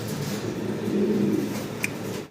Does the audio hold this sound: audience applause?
no